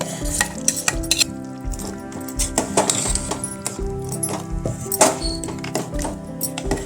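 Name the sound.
stirring masala into chicken sambar in a pot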